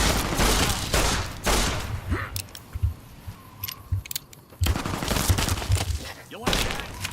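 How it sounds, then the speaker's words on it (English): An enemy firing a grenade launcher in Fallout with the Tale of Two Wastelands mod, bursts of loud explosive gunfire in clusters separated by quieter gaps with scattered clicks, with some talking mixed in. "Oh, you have a grenade launcher?"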